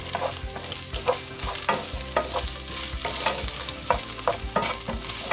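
Food sizzles steadily in a hot pan while a utensil scrapes and stirs in regular strokes, close and fairly loud, with no one speaking.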